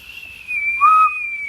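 A person whistles a sustained, slightly wavering tone that dips briefly to a lower pitch in the middle, clear and fairly close in a quiet room during a casual podcast conversation.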